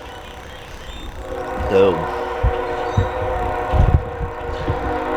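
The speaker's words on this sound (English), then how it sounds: "There's a choo-choo train again." A train passes at a distance near an outdoor work site, with a short horn blast and a low rumble under scattered thumps and handling noises; someone speaks briefly.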